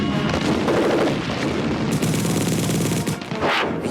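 Dense gunfire follows an order to fire, a loud, continuous barrage of overlapping shots and bursts with sharp cracks standing out near the end, heard without speech.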